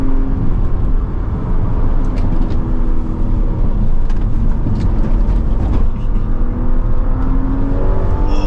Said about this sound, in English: you can get some decent speed through the corners, as I'm demonstrating now